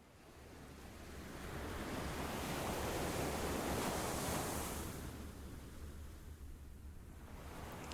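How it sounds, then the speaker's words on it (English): Ocean waves slam against rocks in a continuous broad roar of surf that swells to a peak and slowly eases, loud and close with a windy, hissing texture and no voices. "The sound of waves slamming against the rocks assaults"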